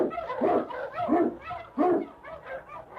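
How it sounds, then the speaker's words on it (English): A husky sled dog, an Eskimo lead dog, barks in short bursts and whimpers between them, fairly close and loud, with no other sound over it. "King, the swiftest, strongest of Eskimo lead dogs, blazes the trail through storm and snow"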